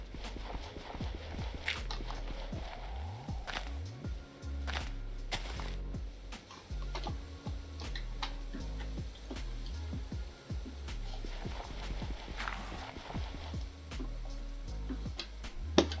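Horse hooves walking in a Minecraft Lord of the Rings mod game, a steady, fairly quiet clip-clop repeating evenly throughout alongside soft game tones.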